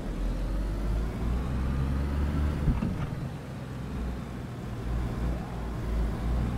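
A vehicle engine in the video game DayZ drones steadily throughout as it drives, a continuous low rumble with a brief faint knock near the middle and no talking.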